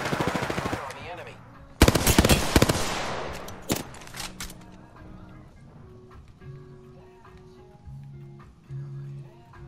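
Rapid bursts of machine-gun fire in the Apex Legends video game, loud at first then a second heavy burst near two seconds, fading into quieter in-game music, with a voice talking briefly.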